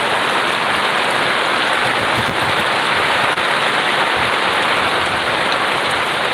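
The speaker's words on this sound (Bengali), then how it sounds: "এখানে প্রচুর বৃষ্টি পড়তেছে" Heavy rain pours steadily with a dense, continuous hiss that stays loud and unbroken throughout, with no voices.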